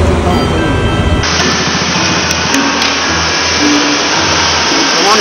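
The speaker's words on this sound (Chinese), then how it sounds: "你的车比我的车还大声啊" A modified scooter's loud engine idles and revs close by at a roadside traffic inspection, a harsh, continuous drone with a sudden rise in roar after the first second and sharp mechanical bursts over it.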